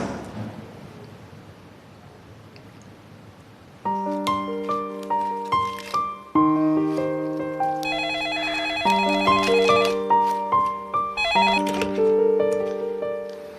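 A few seconds of faint hiss give way to a telephone ringing with a bright electronic melody, loud and repeating.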